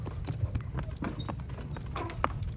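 An eight-year-old pregnant mare's hooves clip-clop at a walking pace, steady irregular thuds close by, with a faint voice in the background.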